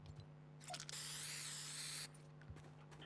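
A short hissing spray burst from a Fortnite player spraying graffiti, lasting about a second amid faint game ambience and brief mechanical clicks.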